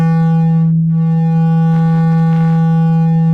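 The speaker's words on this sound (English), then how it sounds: "a sine wave, because there's only one point of vibration." A steady pure sine tone, a single resonating pitch with faint harmonics, sustained unbroken and loud for the whole stretch.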